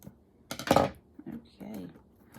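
A new oracle card deck is opened gently, with a handful of soft crinkling, clicking and tapping noises from the packaging, close and quiet with gaps between them.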